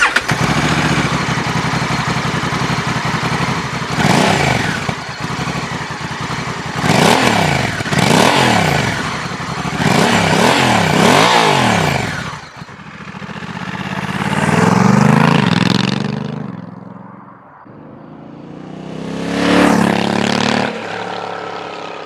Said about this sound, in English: The engine meets the Euro 5 emissions standard and has a very solid sound, even in stock, which I will gladly demonstrate.